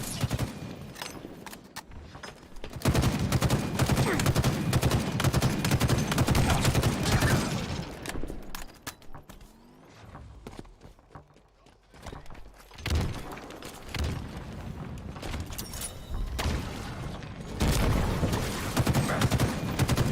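Gunfire in a Halo match, bursts of shots and rattling weapon fire that come and go, with quieter gaps between stretches of combat noise.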